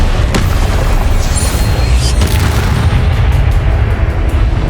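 Incendio fire spell cast in Hogwarts Legacy, a loud, sustained roaring whoosh of flame with a dense low rumble holding steady throughout and a sharp crack near the start.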